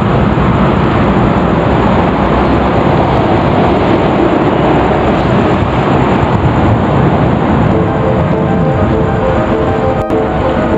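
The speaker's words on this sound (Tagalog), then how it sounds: "Lakas ang hangin, guys." Strong wind blowing steadily outdoors near the NLEX expressway, a loud continuous broadband roar with no letup and no talk over it.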